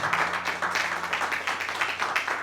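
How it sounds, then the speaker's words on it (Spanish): A church congregation applauds Ruth during a Christmas service, a dense, continuous patter of many hands clapping at moderate volume for a couple of seconds, with no voices. "Vamos a dar un fuerte aplauso a Ruth"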